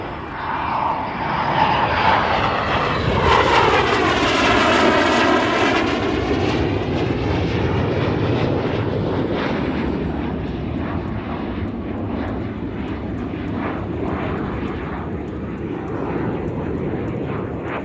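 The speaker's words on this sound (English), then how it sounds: "again from the right, here comes Cutter and the Super Sabre" An F-100F Super Sabre jet roars past overhead at a 2022 Michigan airshow, its engine noise swelling loudly and sweeping downward in pitch as it passes, then lingering as a steady, fading rumble.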